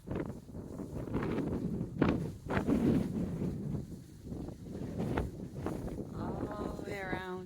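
Wind buffets a mountaintop at 5,587 feet near Carver's Gap on the Appalachian Trail in fall, a steady low rumbling gust across the microphone with brief louder surges.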